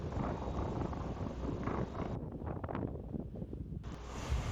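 Gusty wind buffets the microphone on the shore at Seaham, England, with surf rumbling behind. The blustery roar stays loud and steady, easing briefly midway before returning.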